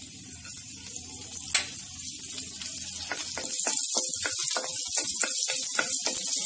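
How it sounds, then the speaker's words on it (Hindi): Finely chopped green chillies frying in hot oil in a kadai, a steady close sizzle that grows louder and crackles more sharply after a few seconds, with one brief clatter near the start. "यहाँ पर तेल भी गर्म हो चुका है तो सबसे पहले इसमें मैं हरी मिर्च डाल रही हूँ"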